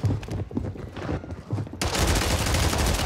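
Pistol gunfire on Call of Duty's Rebirth Island, rapid sharp shots at first, then dense continuous firing and explosive noise that fills the rest of the clip.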